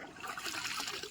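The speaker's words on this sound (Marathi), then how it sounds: "हात पाय धुतो म्हणजे उन्हाचा गारवा जरा थंडगार पाणी" Cold water trickling and splashing as hands and feet are washed outdoors on a hot summer day, a steady close patter of running water throughout the short moment.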